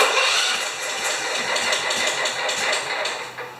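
A John Deere STX38 lawn tractor engine, run with a little choke and with gas in its oil, turns over and keeps running up close, a loud steady mechanical drone with slight uneven pulsing and no voices over it.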